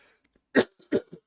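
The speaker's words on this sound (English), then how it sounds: "apologies in advance for the coughing" Two short, sharp coughs close by, with a few softer throat sounds between them in otherwise quiet surroundings.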